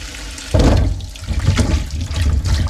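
Papaya washed under running water from a tap, a loud, close, continuous gush that surges on at the start and splashes unevenly over the fruit, with no talk.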